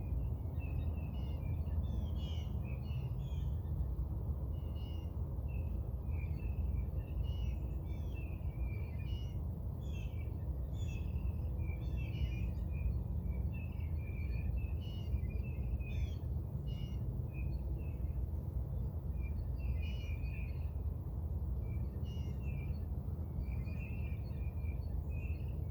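Small birds sing outdoors in repeated short chirping phrases that sound steadily over a constant low background hum, fairly faint and with no talking.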